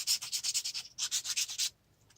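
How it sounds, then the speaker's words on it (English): A smooth hand file and 220 grit sandpaper rubbed over the edges of guitar pickup bobbin flatwork, a quick run of about fourteen rhythmic rasping strokes, close and fairly quiet, ending abruptly in near silence. "I like using a smooth hand file for this, and then going to some 220 grit sandpaper"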